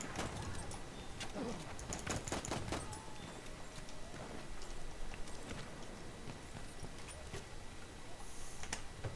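Cavalry horse hooves pound along in Battlefield 1 on the Suez map, a fast, steady clip-clop close up among busy game effects, with a player talking over the action.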